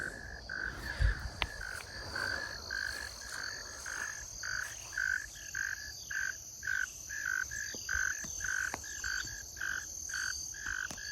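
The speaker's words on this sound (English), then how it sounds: "It's tree frogs." Tree frogs call at dusk in the woods around a rural homestead. Their rhythmic, pulsing chorus repeats steadily over a soft bed of insect noise, with no talking.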